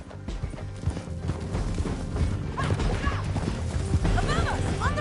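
Galloping horse hooves from Red Dead Redemption 2 beat in a steady clip-clop rhythm under loud game music, gunfire and shouting voices.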